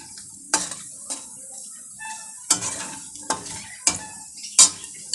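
Rice for prawn polao being stirred and fried in a pan, quiet sizzling broken by several sharp scrapes and clinks of a utensil against the pan at irregular intervals.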